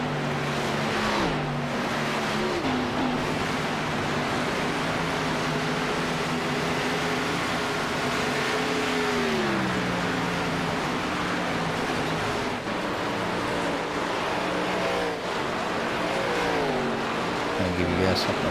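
Race car engines whine steadily around Darlington Raceway in an Xfinity Series racing video game, a continuous drone with rising and falling pitch as cars pass, under a commentator's running talk.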